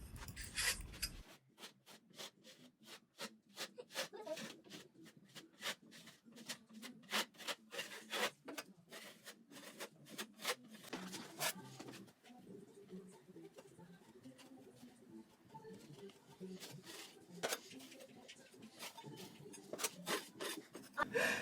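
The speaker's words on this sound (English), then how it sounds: "I'm smoothing it out with this coat" Plaster coat being smoothed over a fireplace with a trowel in fanning, rounded strokes, giving a close, repeated rasping scrape in uneven bursts with short pauses, faint background hum.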